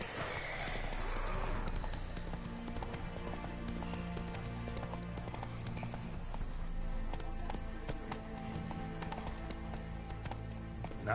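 Galloping clip-clop of the horse Roach in The Witcher 3: Wild Hunt, rhythmic hoofbeats running steadily under game music and ambience, near and fairly loud for the whole stretch.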